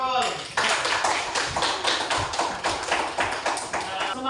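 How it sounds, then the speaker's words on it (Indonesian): Classroom students clapping for a classmate in unison: quick, evenly spaced claps in a brisk rhythm for about four seconds, loud and close, with a brief lead-in before the beat settles. "tepuk tangan untuk Nurul."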